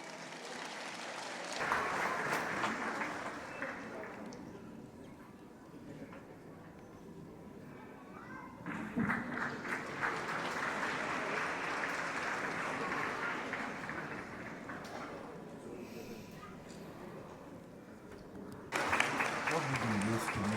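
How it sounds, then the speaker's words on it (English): Audience at an India Day 2024 awards ceremony applauds recipients in waves: a short burst, a long steady stretch of clapping, then another burst at the end, with voices audible underneath. "Please give them a big round of applause"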